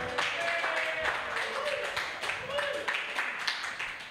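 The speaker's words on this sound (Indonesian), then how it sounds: "Boleh tepuk tangan, tepuk tangan." An audience at a stand-up comedy show claps and applauds in a steady patter, moderately close, with a voice speaking faintly over the clapping.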